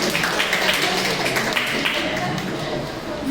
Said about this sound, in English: Please give a big round of applause for Madhavan.